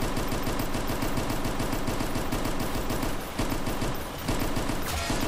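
Sustained machine gun fire in the WWI trench-warfare video game Entrenched rattles loudly and continuously, with rapid, evenly spaced shots and only a momentary dip before it carries on.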